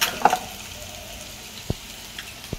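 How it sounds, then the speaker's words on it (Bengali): Ground onion, ginger, garlic and chili paste frying with eggs and potatoes in a pan, a low sizzle under a few sharp clicks of stirring. "আলুগুলো ডিমগুলো কষা মশলার মধ্যে দিয়ে দিলাম, পেঁয়াজ আদা রসুন লঙ্কা বাটার সাথে। এখন ভালো করে কষিয়ে নিচ্ছি।"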